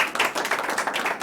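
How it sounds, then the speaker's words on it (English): An audience at a town board of selectmen meeting claps, a dense burst of applause from many hands in a room, steady and fairly close throughout. "If we can hold on the applause too, we got a lot of folks here."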